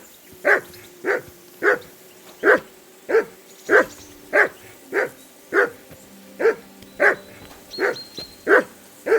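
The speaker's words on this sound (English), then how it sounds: "Call off that mutt of yours!" A dog barks steadily in Kingdom Come: Deliverance II, about fourteen sharp, evenly spaced barks close by, loud and clear over a quiet background with no talking.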